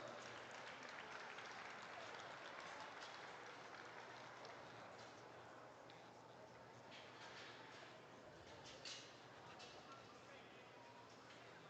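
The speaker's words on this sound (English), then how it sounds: "Carter, and Jess a round of applause" An audience at a sheep dog trial arena at the National Western Stock Show applauds, a steady wash of distant clapping that slowly thins out, with a faint voice underneath.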